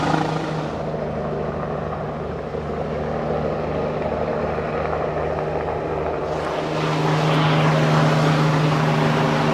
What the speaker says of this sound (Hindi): यार ये ऊपर हेलीकॉप्टर मुसलसल मेरे ऊपर चक्कर पे चक्कर लगाए जा रहा है